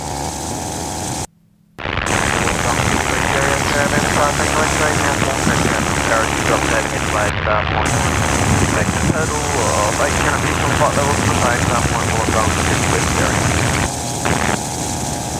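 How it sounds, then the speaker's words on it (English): An ELA gyrocopter in flight, with steady, loud engine and propeller drone filling the cabin. A brief dropout interrupts it early on, and talk is mixed in over the continuous roar. "it's definitely it's flying to altitude"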